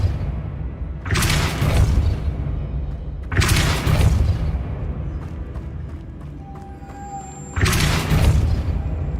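Depulso force spell casts in the video game Hogwarts Legacy, three heavy whooshing booms spaced a few seconds apart, each bursting loudly then fading into low rumble.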